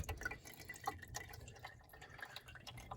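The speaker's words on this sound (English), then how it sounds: "Look at that, it's draining." Water draining from a leaking HVAC unit, heard as faint, irregular drips and soft trickling at low volume in a quiet indoor space.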